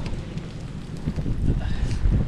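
Gusty wind buffeting the microphone at the seaside, a steady low rumble that swells louder toward the end, with no talk over it.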